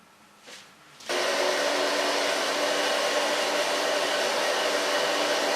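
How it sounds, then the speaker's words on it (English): A blow dryer switches on after a moment of quiet and runs with a steady, loud, breathy whoosh while drying a woman's short pixie-cut, freshly colored hair in a salon. "I will dry her hair"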